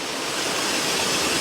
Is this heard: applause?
no